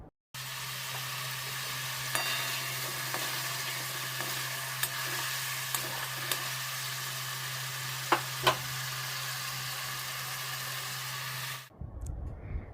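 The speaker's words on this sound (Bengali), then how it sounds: "চলো এবার ডিমটা করে নিই।" An egg fries in a hot pan on a home kitchen gas stove, a steady close sizzle running throughout with occasional light scrapes and ticks from stirring, then cutting off abruptly near the end.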